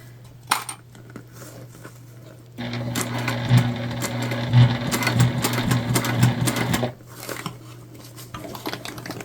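Close sewing machine stitching a tote bag, a steady whirring hum with rapid needle clatter that starts abruptly after a few quiet seconds, runs for about four seconds, then stops, with light handling clicks before and after.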